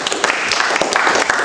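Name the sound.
audience applause for a speaker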